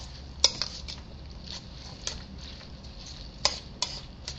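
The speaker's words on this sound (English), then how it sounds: "we're going to go ahead and mix the egg through all this right now" Spoon mixing egg through a bowl of Mexican vegetable pancake batter, soft wet stirring broken by a few sharp clinks of metal against the bowl, close and fairly quiet.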